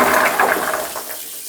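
Running water splashes steadily over brined olives during washing, a short bright rushing sound that gradually tapers off.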